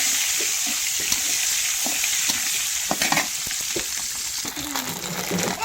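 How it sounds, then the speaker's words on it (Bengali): An egg frying in a wok sizzles in a steady hiss while a spatula stirs and scrapes it in irregular strokes, close up with brief faint talk. "দিয়ে এবার আমি ডিমটা ঢেলে দেব। ডিমটা আগে ভেজে নিই"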